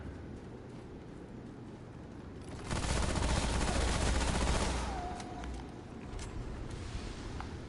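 Gunfire in the video game Remnant on PS5, a dense burst of shots swelling to a loud, noisy roar for about two seconds, then fading back under a steady game background.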